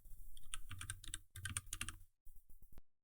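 Quick bursts of keystrokes on a computer keyboard, close and clear, a rapid run of clicks, a short pause, then a few final separated taps.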